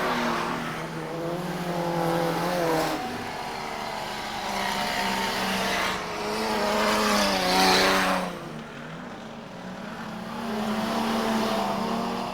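Modified production race cars roar around the Carina Speedway dirt track in Queensland, their engines rising and falling in overlapping revving sweeps as several cars pass at close to middle distance, loud and continuous with no talking.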